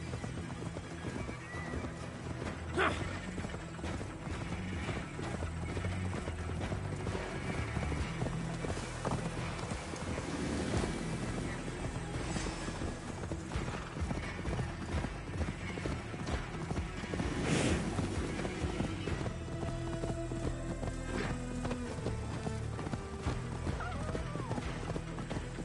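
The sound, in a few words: horse hooves in the video game Assassin's Creed Valhalla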